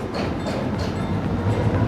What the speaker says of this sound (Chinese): 然后来坐这个茶园小火车